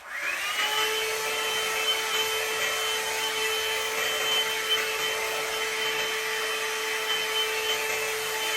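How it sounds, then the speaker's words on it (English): A hair blow dryer runs continuously, a steady close whooshing hum with a constant motor whine, used on natural 4c hair, loud and alone without talk. "I'm just gonna go one more time in with my blow dryer"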